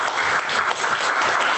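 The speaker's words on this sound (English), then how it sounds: "So there is a way to clap real, as in real meetings." A burst of applause during a hybrid science workshop meeting, dense and continuous clapping filling the short stretch at close, fairly loud level with no talk over it.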